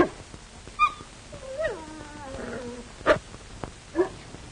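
A wolf dog in a 1938 Yukon adventure film gives a few low, growly vocal sounds mixed with sliding whines and short yelps, moderately loud over a faint hiss.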